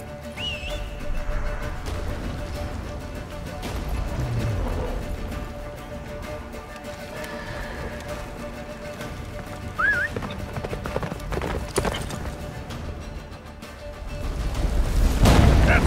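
Steady hoofbeats of a horse galloping in The Witcher 3: Wild Hunt, set on the Isle of Mists, run continuously under game effects, with a few whistles and a low boom near the end.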